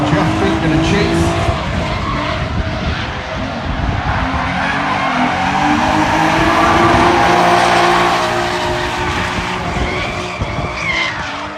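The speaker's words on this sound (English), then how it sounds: "Nate Healy going to take us up to the initiation cone. Jeff Fink going to chase" Drift cars skid through a drifting competition run, a lead car and a chase car sliding toward the initiation cone, tires screeching and engines roaring loud and continuously throughout, with a commentator's voice running underneath.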